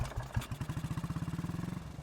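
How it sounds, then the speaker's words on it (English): A motorcycle engine starts up and settles into a fast, even putter of regular exhaust pulses, mid-loud and close, with no voices. "Ethan straddled the seat of the spare motorcycle and revved the engine to life."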